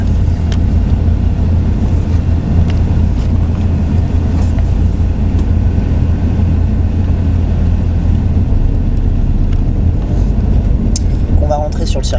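A Subaru rally car on the dirt circuit at Courcelles gives off a loud, steady engine roar with rumbling low end that holds unbroken throughout, with voices faintly beneath it.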